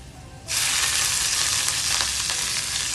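Three green chilies and onion hit hot oil in a pan for a radish fry, bursting into a loud, close, steady sizzle after a half-second of quiet that continues evenly to the end.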